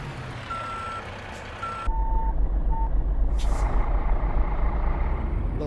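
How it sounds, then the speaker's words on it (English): Heavy truck in Euro Truck Simulator 2 reversing, steady high reversing beeps over a loud diesel idle, with an air-brake hiss partway through, close and prominent. "Love the sound of this truck."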